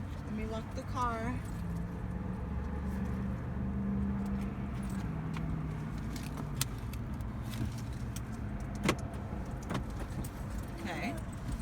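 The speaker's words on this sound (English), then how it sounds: "Let me lock the car." Keys jangle and a car locks with a few sharp clicks, close by, while voices talk over the jingling.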